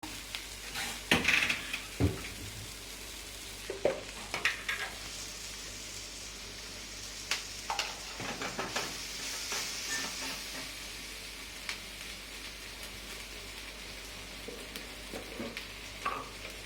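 Okra sautés in a pan with chili powder and garam masala, giving a soft, steady sizzle under repeated stirring taps and scrapes of a spoon against the pan.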